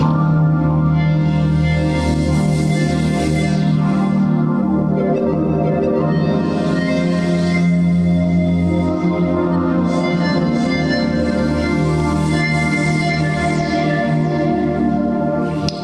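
A continuous Korg Oasys synthesizer pad from a wave sequence that slowly shifts and morphs in timbre, with brighter shimmering swells coming and going over about sixteen seconds.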